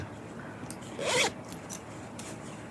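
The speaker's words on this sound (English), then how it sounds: "The YKK, really hefty pull. It's a thicker type of zipper." A thick YKK zipper with a hefty pull is drawn in one quick, rasping zip, close and fairly loud, followed by a few faint clicks of the pull.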